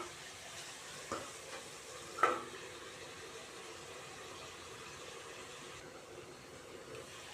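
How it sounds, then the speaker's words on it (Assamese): Pieces of local chicken fry quietly in a pan with a faint, even hiss and one brief clunk partway through, with no voices. "এয়া মুৰ্গীৰ মাংসখিনি অকণমান ভাজি লৈছোঁ।"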